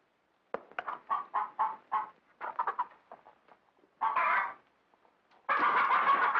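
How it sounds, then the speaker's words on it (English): Chickens cluck in a farmyard scene from the 1952 comedy Jack and the Beanstalk, a run of short rhythmic clucks followed by louder, longer squawking bursts near the end, with no talk. "Well, feed the chickens."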